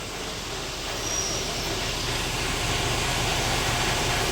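A Sinotruk forward dump truck with a YC4D130 diesel engine, overheating and low on power, runs steadily at idle as a loud, even broadband rumble with no pauses.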